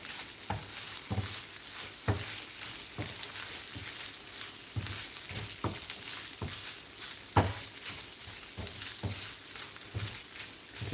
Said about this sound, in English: I'm now going to be frying this shutki thoroughly with this.